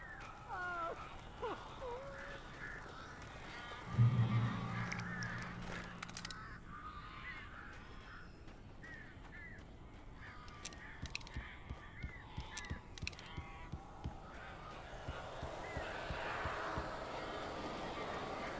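Crows caw in the video game Alan Wake, harsh calls scattered through a tense interior scene with a loud thump early on and other game sounds around them, fairly close.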